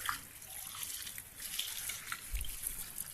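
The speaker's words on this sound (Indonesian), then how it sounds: "kemudian kita siram dengan air." Water is poured onto a fertilized Anthurium Jemani Cobra plant, giving a faint, continuous trickle and splash with no talking.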